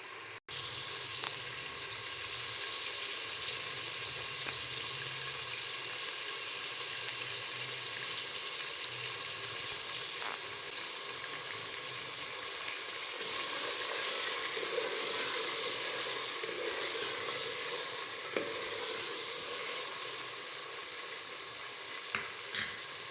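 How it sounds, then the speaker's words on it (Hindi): Chicken fries in a pan, a continuous, fairly soft sizzle and crackle with occasional stirring, steady throughout with no talking. "चिकन को अच्छी तरह से फ्राई करेंगे।"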